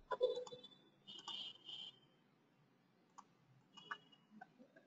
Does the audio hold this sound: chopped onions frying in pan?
no